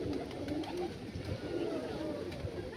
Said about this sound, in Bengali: এই হচ্ছে পায়রা।